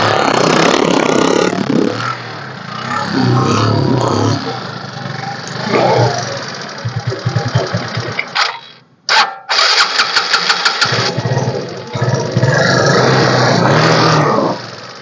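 An SS 125 motorcycle is started and left to idle. A steady, loud engine runs close by, cuts out briefly, then catches again with sharp bursts and settles back into a running drone, with people talking over it.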